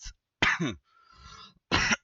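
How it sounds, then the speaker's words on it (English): A person coughs in short bursts: one quick cough, a louder double cough, and a final cough after a brief pause, all close to the microphone with no talking. "also got a bit of a cough"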